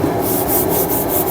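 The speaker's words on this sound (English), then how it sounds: "it's difficult to get the sandpaper right into the corner" Sandpaper rubs steadily against a wooden subwoofer box, loud and close, in a quick rhythmic back-and-forth rasp with regular strokes and no voices.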